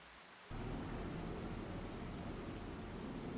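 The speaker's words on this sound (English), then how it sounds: "And of course it's raining again." Steady broadband rain hiss in Farming Simulator 25, starting abruptly and continuing evenly, loud and unbroken with no talk.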